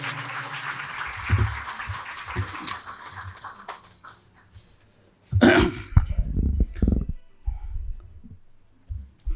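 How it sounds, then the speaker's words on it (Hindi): At a grand book launch ceremony for L. N. Rao's autobiography, the audience claps for the co-writer in a burst that quickly dies away, followed by throat clearing, coughs and close microphone knocks. "इनके लिए भी जोरदार तालियां हो जाएं"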